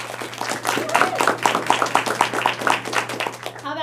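A small audience at a team meeting claps to vote, a steady patter of hand claps lasting several seconds at moderate volume, with some voices mixed in underneath.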